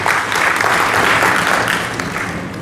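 A seminar audience breaks into strong, steady applause, a dense wash of clapping from many hands that holds loud throughout and eases slightly at the end.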